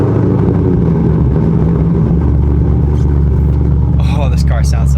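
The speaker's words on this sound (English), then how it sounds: "let's get you a little cold start sound" A BMW M4 engine idles steadily after a cold start in the rain, a loud low rumble holding throughout, with a voice speaking briefly over it near the end.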